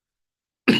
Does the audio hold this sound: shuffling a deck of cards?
no